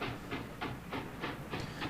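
Train engine in the Luigi's Mansion: Dark Moon video game, a steady chugging rhythm of repeated hissing bursts about every third of a second, close and continuous over a low rumble, with no voices.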